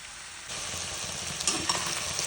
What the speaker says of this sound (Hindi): तो चलिए हम अभी इसे फ्राई करेंगे।